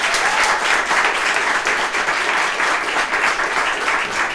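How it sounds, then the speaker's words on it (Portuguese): A talk-show audience applauds loudly and steadily, a dense wash of many hands clapping together for the whole stretch. "Por intensidade de aplauso, façam-nos ouvir."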